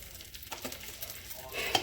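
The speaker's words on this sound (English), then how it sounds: "Don't worry about the sizzling." Butter sizzles softly in a pan for Southern-style cornbread, a faint crackling fry with a brief louder flare near the end and no voices.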